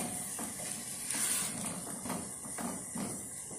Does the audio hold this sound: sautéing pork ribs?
yes